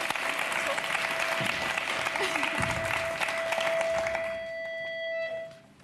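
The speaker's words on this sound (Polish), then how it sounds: "Wielkie brawa dla Kasi." A television talk show studio audience claps and cheers in a dense, steady burst of applause that fades out near the end, with a host's voice briefly over it.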